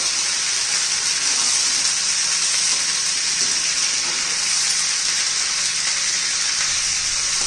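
Guar beans and green peas sautéing in hot oil for a quick Maharashtrian vegetable dish, giving a steady, loud, broadband sizzle with a watery hiss that holds evenly throughout, with no voices.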